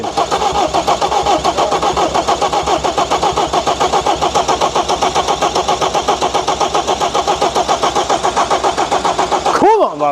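A recovery truck engine with no glow plugs cranks steadily for about ten seconds, a loud, even starter whirr that never catches, then stops abruptly with a brief squeal.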